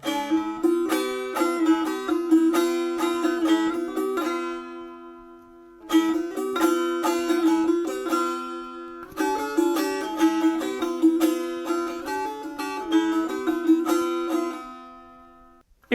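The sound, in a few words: dutar melody with harmony from the second string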